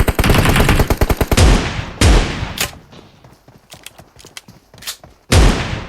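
Loud shotgun blasts in the PUBG battle game: a rapid burst of close shots at the start, then single heavy booms spaced a few seconds apart, with quieter distant shots between them.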